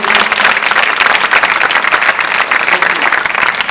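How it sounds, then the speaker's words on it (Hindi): A packed crowd at a dance competition grand finale claps loudly and vigorously during a prize presentation, a dense, close, continuous roar of hands. "जोरदार तालियां प्लीज"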